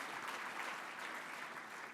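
Soft, even applause from a conference audience at a media technology retreat, a moderately distant wash of clapping with no talk over it.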